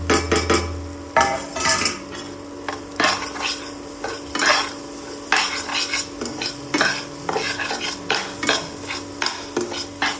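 Idiyappam flour being stirred with egg in a pan, heard as repeated close scraping and clattering of a spoon against metal over a light sizzle, in an uneven rhythm with no talking.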